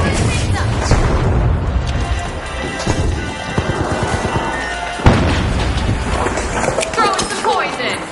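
Heavy booming blasts from two grenades going off in the video game The Finals, loud and close amid a dense, crashing mix of gameplay noise, with a sharp burst around the five-second mark and players talking over it.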